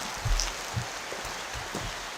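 Soft, steady rain patters across a surface on a mountain hike in the Bieszczady, Poland, with a few low thuds and a light broadband hiss throughout.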